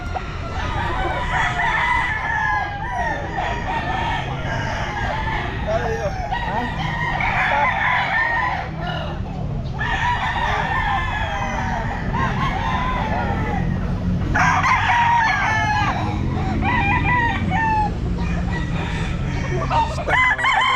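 Stag roosters at a pet market crow repeatedly, with overlapping cock-a-doodle-doos and clucking over a steady crowd murmur, fairly close and loud.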